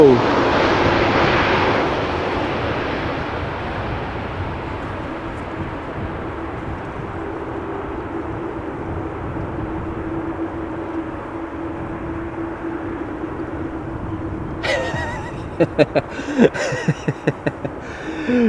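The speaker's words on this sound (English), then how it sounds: "It's Embraer 190 arriving from Prague." Embraer 190 airliner arriving at Amsterdam Schiphol Airport, a loud roaring jet rush that slowly fades into a steady drone with a lower hum, followed by a few sharp clatters near the end.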